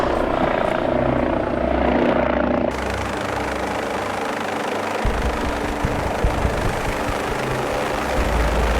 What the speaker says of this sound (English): Duncan gets the car park cleared for the Westpac helicopter. Confirming landing Piha.